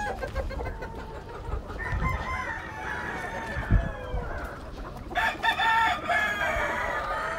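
Giro roosters on a farm crow repeatedly, loud and close, amid steady clucking from other fowl, one crow rising clearly near the end.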